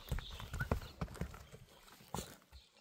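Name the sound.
Kyrgyz horse hooves clip-clopping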